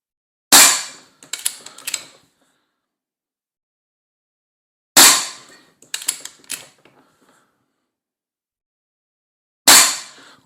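Three sharp, loud shots from an SMK PR900W .22 PCP air rifle, spaced about four to five seconds apart, each crack followed by a brief rattle of mechanical clicks from cycling the action.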